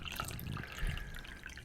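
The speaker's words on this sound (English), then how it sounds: "I can pour myself a cup of tea" Tea poured into a cup at a desk, a short close liquid stream trickling and splashing steadily for under two seconds, fairly quiet, with no talk over it.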